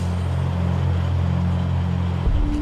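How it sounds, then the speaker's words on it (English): Lorries at the port of Calais, France, queuing to board ferries: a low, steady diesel engine idle drones nearby, shifting slightly as another engine note comes in at the end. "Hundreds of lorries are preparing to board ferries bound for Britain."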